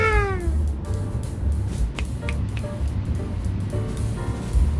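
A cat gives a clear, fairly loud meow at the start, followed by fainter scattered cries and clicks over a steady low rumble, with no talking.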